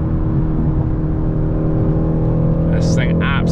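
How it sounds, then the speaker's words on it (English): A stock Mercedes AMG twin-turbo V8 producing about 500 hp rumbles loudly and steadily from inside the car while cruising through a city centre, with short sharp chirps or squeals near the end. "listen to the sound of that twin turbo V8"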